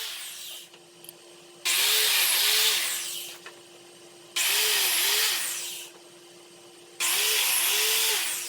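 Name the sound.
biscuit joiner cutting wooden boards for farmhouse table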